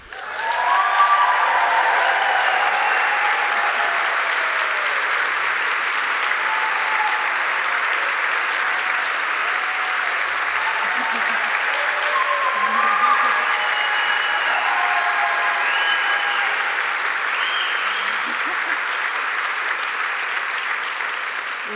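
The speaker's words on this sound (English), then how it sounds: "you bask in the amazing applause you shall receive" Steady, loud applause from a large audience at a food history gala and award presentation. It holds for over twenty seconds, dense and unbroken, with faint cheers mixed in.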